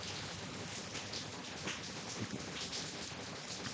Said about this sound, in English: I don't know how to show you guys the rain